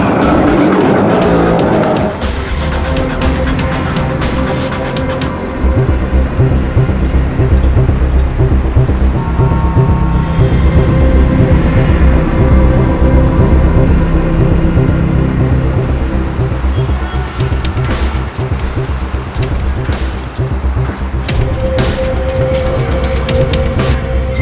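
A car drives through city traffic with a steady, loud engine and road rumble lasting throughout, sharper broadband bursts near the start and end.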